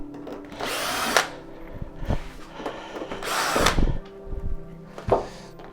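A power drill backs screws out of a large picture frame in a home workshop, with three loud whirring bursts separated by short pauses and light clicks and clatter between them.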